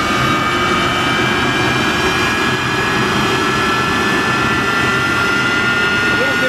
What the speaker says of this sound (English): but that's a large turbojet being started